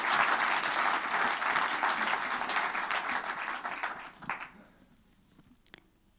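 Warm applause from an evening awards audience for the Madame Artisanat d'Alsace 2022 partners, steady dense clapping for about four seconds, then thinning out and fading to a few stray claps.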